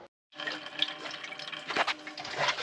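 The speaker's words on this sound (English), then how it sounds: "All right, the cold water is working." Cold water running from a household tap after a freeze has thawed, a steady close splashing gush that starts abruptly after a short silence.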